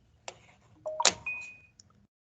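A mobile phone chimes with a short notification ding during a quiet morning team meeting in an office, one bright tone with a faint ringing tail, near and clear against near silence.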